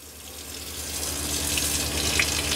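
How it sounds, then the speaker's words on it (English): Water runs from the faucet of a 2023 Airstream Caravel 16RB travel trailer, a steady close hiss that grows slightly louder over a few seconds, with no talking. "Turn the water on."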